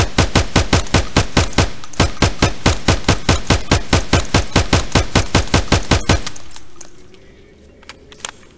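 Tap-firing a gun in Escape from Tarkov, about thirty crisp, evenly spaced single shots at a fast steady rhythm, loud and close, then a fading echo and faint clicks.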